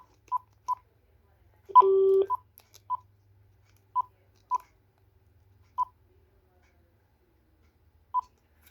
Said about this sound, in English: let's go ahead and test out all the buttons on each handset